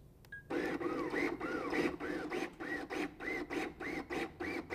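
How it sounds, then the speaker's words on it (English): A LUCAS mechanical chest compression device running in continuous compression mode, giving a regular rhythmic mechanical whir and clunk about twice per second, each stroke with a rising-falling whine, close and fairly quiet. "Press the active button for continuous compressions."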